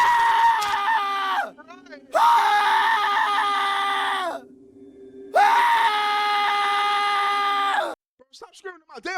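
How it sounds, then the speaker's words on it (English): A loud, sustained scream right up close, two long piercing wails split by a short gap, with a quick chattery vocal burst at the end. "Stop screaming in my damn ears!"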